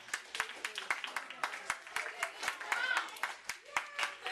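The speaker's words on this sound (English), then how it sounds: "They want to give you a big round of applause." Audience applause for a magic show volunteer at a party: dense, close clapping from a crowd with sharp overlapping claps, lasting throughout, with voices mixed in.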